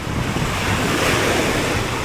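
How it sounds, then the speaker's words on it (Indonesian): Waves breaking on a black sand beach in Saint Kitts, a loud steady roar of surf with wind buffeting the microphone, no voices. "Wow, kita udah sampai di pantai."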